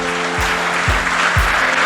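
A church congregation applauds during a Spanish-language sermon, a steady broadband wash of clapping running the whole time with a few low thumps mixed in.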